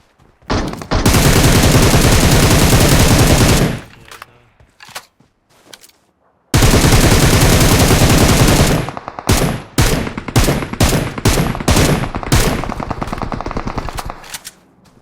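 Bots firing automatic weapons in PUBG Mobile: a loud sustained burst of machine-gun fire for about three seconds, a pause, then another long burst trailing into scattered shorter shots and single cracks.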